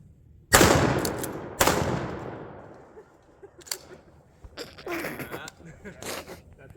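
A pump-action shotgun fires at an outdoor shooting range: two loud, sharp blasts with ringing decay about a second apart, followed by softer clacks and rattles of the action being worked.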